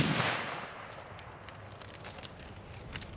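A single .357 Magnum shot from a lever-action rifle firing 125-grain Hornady loads cracks at the very start, then fades into a fading tail and quiet outdoor background.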